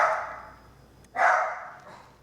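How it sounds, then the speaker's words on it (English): A dog indoors barking during soup cooking: a yelping bark burst at the start, a pause, then a second louder bark, fairly close. "The dog's going crazy."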